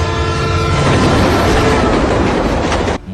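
A train rushes past loudly and close, a steady roar of wheels clattering on the rails with a horn blaring, cutting off abruptly near the end.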